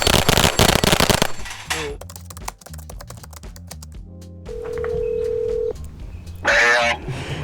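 Loud rapid pistol fire from a cheap 2011 on a steel plate rack: a dense burst of sharp cracks, then scattered shots, a sustained electronic beep, and a final harsh blast.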